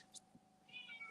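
A cat meows once, brief and fairly close, during an online legal panel discussion, with background hum and no talk over it.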